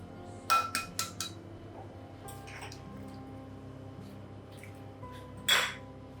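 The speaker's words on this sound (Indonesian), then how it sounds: "Lalu kita masukkan telur satu persatu." Eggs are added one by one to banana bread batter in a kitchen, with several quick clinks and taps of shell or utensil against a bowl near the start and another louder clink later, over a low background hum.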